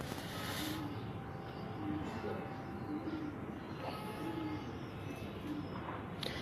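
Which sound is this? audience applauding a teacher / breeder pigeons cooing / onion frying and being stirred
breeder pigeons cooing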